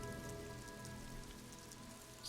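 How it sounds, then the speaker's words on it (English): Steady rain drumming on a roof in the video game Disco Elysium, a dense, constant patter that holds even throughout with no speech. "Rain thumbing on the roof."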